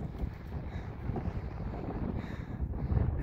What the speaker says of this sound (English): it's starting to get a little breezy up here